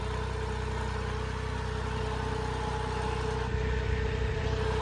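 A heavy-duty tractor engine drones steadily while pulling a lowered cultivator through a field in fourth gear, a constant loud low rumble with no drop in revs and no voices.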